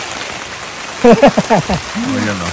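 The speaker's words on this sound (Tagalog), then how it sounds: "Maulan. Ulan ah." Steady rain falls on a campsite in Canada, a constant soft hiss throughout, with someone speaking briefly over it in the middle.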